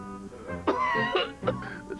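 Congested coughing and throat clearing from someone with a cold, a few harsh bursts close by, with short pauses between them.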